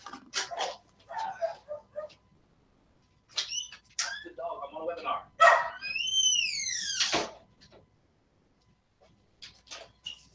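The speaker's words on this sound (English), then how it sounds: "My dog there barking." A dog barks, yips and whines in irregular bursts at fairly close range over about ten seconds, with rising and falling squeals between the barks.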